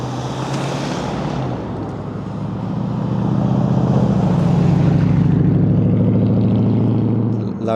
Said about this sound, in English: Loud motor come past, it's a Range Rover.